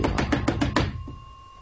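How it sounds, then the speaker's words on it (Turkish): Knocking on a door as an audiobook sound effect: six sharp, evenly spaced knocks in quick succession, loud and close, followed by a faint lingering tone. "Küt küt kapıya vurarak"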